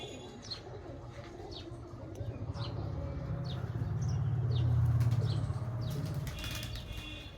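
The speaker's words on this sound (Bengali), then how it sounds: "ওই যে ফ্রেন্ড উপরে হাইট নিয়ে নিচে পায়রা উড়ানো হলো" Pigeons fly past with a rising then fading whoosh of flapping wings, accompanied by light chirps and some outdoor background noise.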